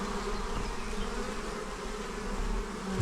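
Honeybees fly around an apiary hive, a steady unbroken buzzing that stays level and fairly close throughout, with no voices.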